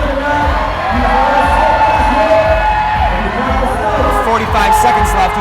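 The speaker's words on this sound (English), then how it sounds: "Ben Hanna asking for some support from the crowd." A crowd at a climbing competition cheers and shouts loudly and continuously, with whoops rising and falling over a thumping low pulse from the venue, and an announcer's voice faintly underneath.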